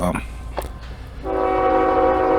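A Norfolk Southern train horn sounds loud and sustained near the end, after a rumbling train approaches close by near Unadilla, Georgia.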